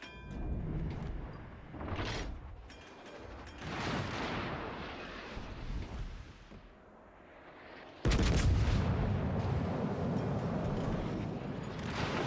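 Naval gunfire in World of Warships: Legends, with Kronshtadt battlecruiser shells landing: repeated booming gun blasts and impact rumbles, ending in a sudden loud, sustained barrage over the final seconds, with no talking.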